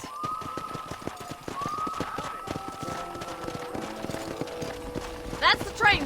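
Steady clip-clopping horse hooves in the video game Red Dead Redemption trot at a brisk, regular pace alongside a faint tonal hum, with a couple of louder bursts near the end.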